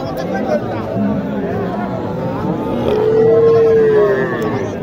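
A long, low moo from a small bull rings out over the steady murmur of a crowded cattle market in Naogaon, Bangladesh, with people talking throughout.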